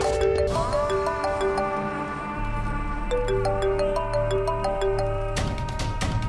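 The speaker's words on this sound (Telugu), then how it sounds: "ఈ సరోజ కొద్ది ఫోన్ చేస్తూ సామ కొడుతూనే ఉంది." A phone ringtone plays as a melodic electronic tune with repeating tones over a steady backing, loud and continuous for several seconds, with no talking.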